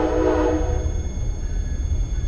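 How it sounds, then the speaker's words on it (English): A big train rolls past a house, a loud rumble close by with a horn-like tone sounding at the start and fading, while the heavy low roar continues. "A big old train."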